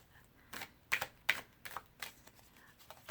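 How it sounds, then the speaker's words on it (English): Oracle cards are shuffled in quick, crisp riffling bursts, soft and close, separated by brief pauses. "let's just shuffle"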